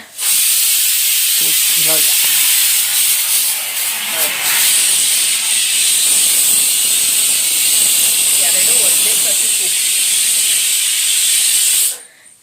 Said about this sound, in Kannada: ಎರಡು ಕುಕ್ಕರ್ ಇಟ್ಟರೆ ಹಿಂಗೆ ಕಾವಲು ಕಾಯ್ತಾ ಇರಬೇಕು ಯಾವ ಕುಕ್ಕರ್ ಕೂಗುತ್ತೆ ಅಂತ